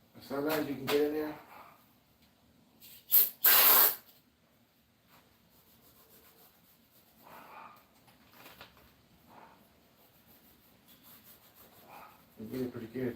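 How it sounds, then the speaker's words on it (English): An aerosol spray can hisses in two short bursts onto a bare Oldsmobile 403 engine block during a teardown, loud and close, with quieter shop noises and brief talk at the start and end. "I'm spraying it down because what I'm going to do right now, I want the tape to stick."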